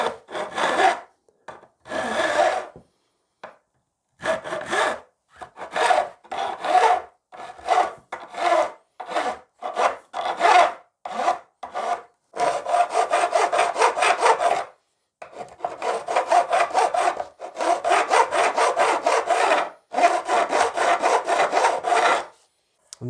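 Guitar fret ends being filed to a bevel: a run of rasping strokes, short separate passes at first, then longer rapid back-and-forth bursts, close and fairly loud with no speech.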